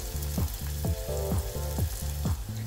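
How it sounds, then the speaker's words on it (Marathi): Chopped onion sizzles in a pan as it softens, a steady frying hiss under a repeating pitched musical pattern that plays throughout. "कांदा मऊसूत होईपर्यंत कांदा भाजून घ्यायचा आहे"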